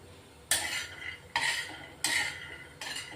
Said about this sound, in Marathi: शेंगदाणे ना स्लो गॅसवर भाजायचे, छान भाजले जातात खरपूस